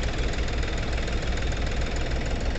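A three-cylinder tractor engine idles close by with a steady, rough, knocking rumble that holds constant throughout.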